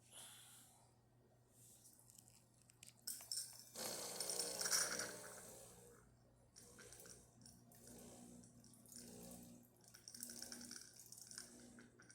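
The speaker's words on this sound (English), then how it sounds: "So let's test the hot water." Hot water hisses and gurgles from a Gaggia Brera espresso machine, a soft spluttering burst that rises and fades, with quieter gurgling afterward.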